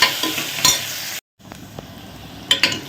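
Onions sautéing in a pan for roadside-style sambar, a steady close sizzle with a few stirring scrapes and a brief silent gap midway.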